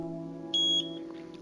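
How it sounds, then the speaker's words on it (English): A single short electronic calibration beep from The Twilight Zone VR video game, a clear tone lasting about a quarter second over a steady hum. "Please read the following phrases out loud. After the beep."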